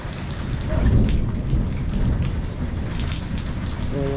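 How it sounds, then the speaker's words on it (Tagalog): A sudden, heavy rain downpour pours outdoors as a dense, continuous hiss and patter on surfaces, loud and close, with low rumbling underneath, and no one speaks over it. "Biglang buhos ang ulan."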